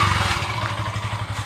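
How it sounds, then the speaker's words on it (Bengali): A motorcycle pulls up nearby, its engine puttering with a low pulsing throb and some clatter over a brief moment. "এই তো দিহান বাইক নিয়ে এসে পড়ছে।"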